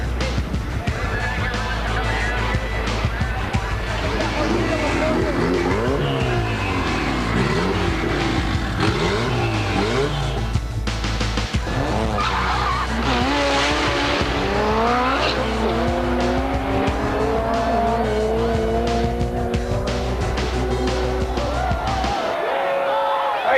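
A drag race car makes a 140-mile-an-hour pass, its engine screaming and rising through the run with squealing tires, loud and sustained before cutting off near the end.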